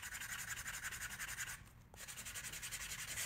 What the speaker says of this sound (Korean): 사포질 합니다.